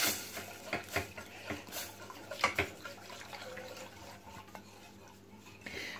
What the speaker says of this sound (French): Je vais continuer à remuer.